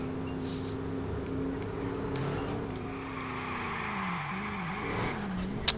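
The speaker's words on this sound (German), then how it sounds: "Also driften, wenn es nass ist" A car drifts on a wet road in the Watch Dogs video game, its steady engine drone bending in pitch with a faint skid under the hum and a sharp click at the end.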